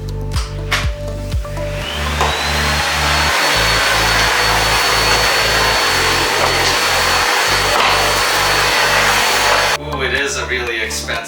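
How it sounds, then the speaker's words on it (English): A Miele vacuum cleaner runs loud and steady with a high whine, starting up after a few seconds of talk and droning on, pulsing slightly as it moves, before cutting back near the end. "we're using the Miele"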